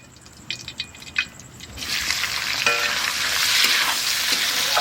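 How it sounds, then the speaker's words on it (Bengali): Onions and green chilies hit hot oil with a sudden loud sizzle after a few quiet stirring knocks, and the steady frying hiss keeps swelling to the end. "এখন আমাদের কাকিমা দেবে পেঁয়াজ আর কাঁচা লঙ্কা দুটো একসঙ্গে দেবে"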